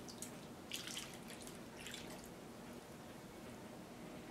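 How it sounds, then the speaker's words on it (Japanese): Warm bath water trickles and drips faintly as soap is rinsed off a baby, with soft splashes in a quiet room and no voices. "洗えたらお湯で泡を落としましょう。"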